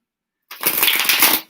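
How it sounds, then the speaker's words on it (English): Tarot cards are shuffled in the hands, away from a table: a close, loud riffling burst of about a second that begins after silence and fades out. "I'm really trying to learn how to shuffle"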